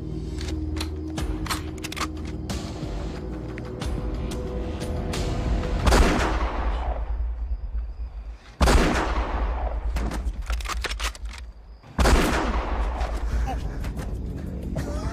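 Sharp gunshots crack out in an action crime film shootout, several bursts of loud, close reports over a sustained background of battle noise, with occasional voices in the mix.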